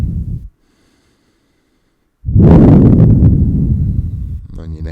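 Slow, deep yoga breath drawn through the nose in a quiet room: a brief exhale, a long pause of silence, then a long, loud, airy inhale lasting several seconds, close to the ear with no talking.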